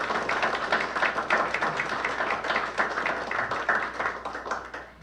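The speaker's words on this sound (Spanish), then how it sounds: "Vamos a darle un fuerte aplauso a nuestro autor" An audience at a book launch claps for the author, dense overlapping applause with rhythmic surges that holds steady for several seconds before tapering off at the end.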